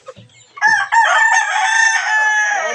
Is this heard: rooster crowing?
yes